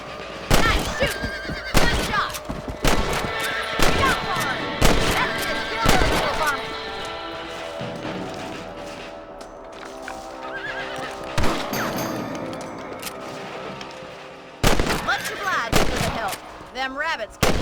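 Rifle shots ring out in the Red Dead Redemption video game as rabbits are hunted on horseback, several sharp loud bangs scattered through a stretch with horse whinnies, hoofbeats and a background music score.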